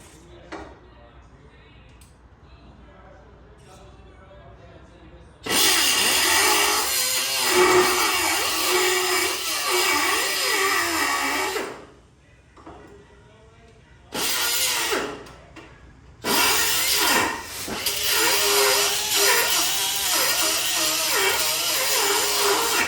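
A cutoff saw bites loudly into steel in three long, harsh bursts with short pauses between them, during fabrication of motor mounts for a Hummer H3 LS swap. Quieter talk comes before the first cut.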